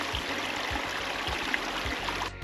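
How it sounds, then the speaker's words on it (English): Vivian Creek flows steadily through the San Gorgonio backcountry at about 7,200 feet, a soft continuous babbling rush with faint regular thuds beneath it. "There's water in Vivian Creek."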